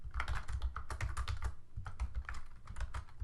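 Code is typed on a computer keyboard in a rapid, uneven run of close, clacking keystrokes with brief pauses, heard alone without speech.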